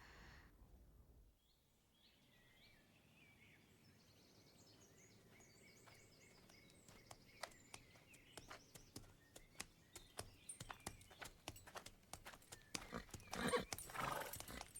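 A horse in an animated film gives a high whinny, then its hooves clip-clop in a steady, quickening rhythm that grows louder and nearer. Faint birdsong sits beneath.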